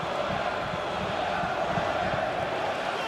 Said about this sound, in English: enjoying the banter from the crowd behind